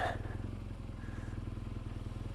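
A BMW R1200 GS motorcycle rides off-road over mud, its engine running in a steady throbbing rumble close by, with no change in pace.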